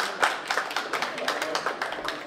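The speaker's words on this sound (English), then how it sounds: "Give him a round of applause." An audience at a University of Texas at Arlington startup pitch event claps for a presenter in a short, brisk burst of fairly close, uneven handclaps.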